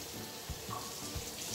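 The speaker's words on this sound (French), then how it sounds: "va te rincer les mains vite fait" Running tap water splashes continuously over hands being rinsed at a kitchen sink, a soft steady wash with a few brief louder splashes.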